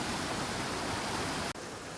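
Constant roar of falling water below a mountain waterfall among stones, even and full, briefly dipping for an instant near the end before resuming.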